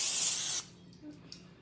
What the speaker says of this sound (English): I'm just spraying like the whole